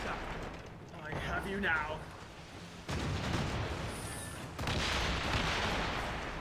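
Heavy-shot cannons firing from a sailing warship in the naval combat of Assassin's Creed Rogue, broad booming blasts at about 3 and 4.6 seconds with rumbling noise throughout, while someone talks early on.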